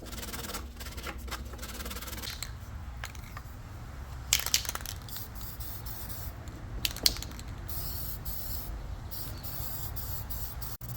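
Spray paint hisses onto a Mitsubishi Lancer undercar shield in several short bursts, with a scraping, rubbing texture between them; fairly faint and close, with no talk.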